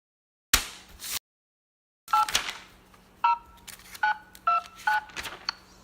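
A telephone number is dialed with a quick series of touch-tone beeps, each a short dual-tone pulse in an irregular rhythm, preceded by a brief burst of noise and a pause, close and clear.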